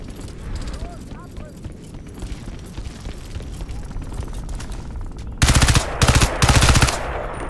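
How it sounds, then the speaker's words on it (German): Rapid automatic gunfire from the video game Crysis 3 multiplayer crackles steadily under game noise, then swells into loud, dense bursts of shooting near the end, with bursts separated by short gaps. "Wo kommen die ganzen Schüsse her, ey?"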